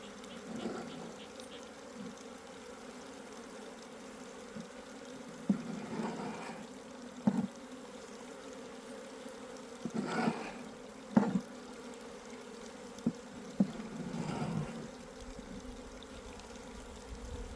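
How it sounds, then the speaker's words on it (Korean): Asian honeybees from a newly arrived swarm buzz steadily and densely close by, a continuous insect drone with a few louder passes swelling through it, and no voices. "또 동양종 꿀벌이 하나가 들어온 거예요."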